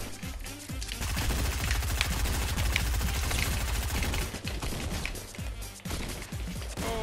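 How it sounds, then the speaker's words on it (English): Rapid gunfire in a video game: dense, continuous bursts of shots under a low rumble, loud throughout the whole clip with no talk. "Oh, the other one is shooting at me."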